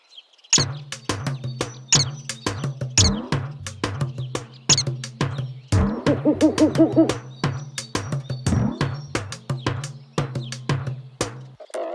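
Cartoon birds chirping in a children's animated show, rapid bright tweets repeating in quick succession over a steady low tone, with a short warbling trill in the middle.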